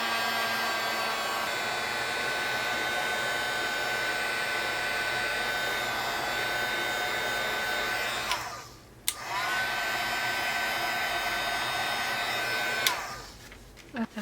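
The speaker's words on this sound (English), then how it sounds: "Okay, so I'm just going to hit it with some heat." A heat tool blows hot air to dry ink, a steady loud whoosh that runs without a break for about eight seconds, cuts out briefly, then resumes and stops again near the end.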